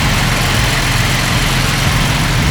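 A Ford F-150 EcoBoost pickup with a newly fitted exhaust and muffler idles steadily nearby, a constant low rumble with no talking.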